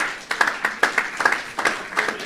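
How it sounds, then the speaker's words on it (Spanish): A small congregation at a church service in Bonaire claps in quick rhythmic bursts, the hand claps close and fairly loud, running steadily for a couple of seconds. "Um aplauso para o Gierne"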